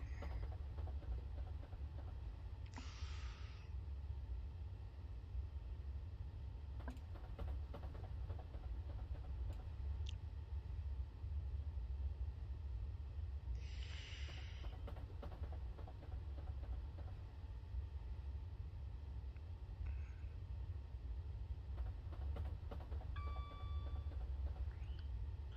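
Simulated train running on rails on the London to Brighton route in Train Sim Classic 2023, a steady low rumble with soft clickety-clack and occasional brief higher squeals or hisses, heard alone without talk.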